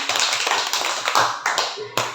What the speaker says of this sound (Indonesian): Tepuk tangan dulu biar gak sepi